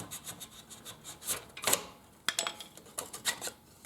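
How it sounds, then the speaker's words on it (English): Metal shims sliding out of a Cadillac Escalade rear air shock mount, a few close scraping, rasping rubs with a sharp metallic tick midway, quiet and without talk. "So let's slide the shims out."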